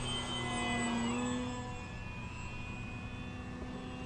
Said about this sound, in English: A little flyby action.